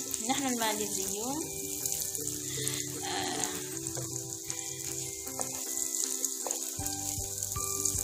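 Omelet mixed with dates frying in a pan in Arab style, a steady close sizzle running under kitchen clatter and a running tap, with brief talk near the start.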